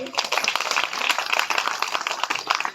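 Audience applause at a Dr. Babasaheb Ambedkar joint birth anniversary celebration, a steady dense patter of many hands clapping throughout, fairly loud and close, with no pause.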